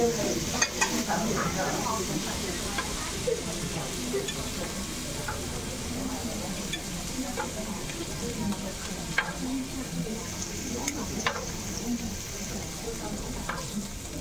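Sendai-style beef tongue sears in a pan at a live chef's cooking demonstration in Taipei, a close, busy sizzle with scattered crackles and spits, faint voices in the background.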